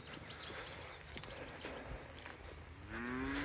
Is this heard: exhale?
no